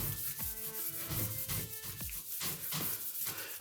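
Hand sanding smooths a surface with steady, close rasping strokes that repeat at a quick, even rhythm, fairly quiet and with no one talking.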